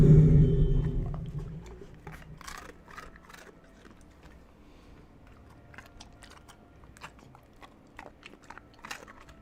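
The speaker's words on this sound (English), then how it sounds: "let's do some dog treat ASMR. I'm going to turn the mic up so you can hear the crunching." Close, crisp crunching of a dog chewing a hard dog treat, a loud thump at the start followed by repeated irregular bites and crackly munching, with no talking.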